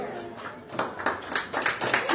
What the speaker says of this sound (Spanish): Le brindamos fuertes aplausos a Carlos Salomón Delgado Castillo.